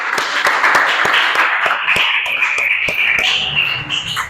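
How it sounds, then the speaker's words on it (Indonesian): Classroom students clap for a group after its presentation, a modest round of distinct, fairly close hand claps of uneven rhythm that thins out toward the end, with no talk over it. "tepuk tangan untuk kelompok 1"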